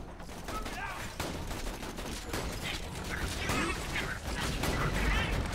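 Borderlands 2 gameplay carries dense, continuous gunfire with rapid shots and scattered blasts, alongside clattering mechanical effects and occasional speech in a busy, steady mix.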